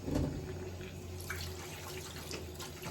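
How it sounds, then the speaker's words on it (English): Tap water running steadily into a sink while soapy hands are rinsed, a soft continuous splashing hiss with low rumble, fairly quiet and close. "Then you want to rinse them very well."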